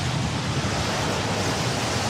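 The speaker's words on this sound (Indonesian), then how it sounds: "Ombak besar datang." Broad, steady rushing roar of big ocean waves surging, used as a sound effect in a children's Bible story about a small boat on a stormy sea; continuous and fairly loud with no voices.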